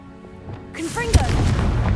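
A Confringo spell blast in a video game erupts with a deep booming burst and crackling rumble that swells and holds, following a shouted voice.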